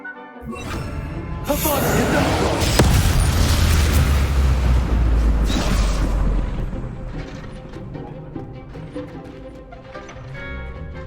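An Incendio fire spell cast in Hogwarts Legacy: a bright whooshing burst erupts early, swells into a loud, roaring rumble that holds for several seconds, then fades to a softer crackling tail.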